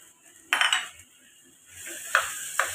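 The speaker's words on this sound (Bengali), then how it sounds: "আমি ডালটা দিয়ে দিলাম, এই মুগের ডালটা ধুয়ে রেখেছিলাম" Washed mung dal tipped into a metal cooking pot, a sharp clatter followed by lighter scraping and clinks, close and fairly loud.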